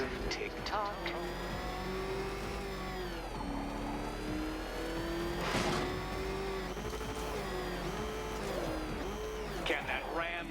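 Ramshackle car engine revving and droning in Batman Arkham Knight, rising and falling in pitch over steady game music and effects, with a voice speaking over it.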